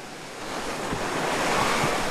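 Waves of the warm Andaman Sea breaking at a beach, a continuous loud wash of surf with wind buffeting the microphone close up.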